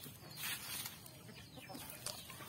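Chickens cluck softly in scattered short bursts, faint and somewhat distant against a quiet background.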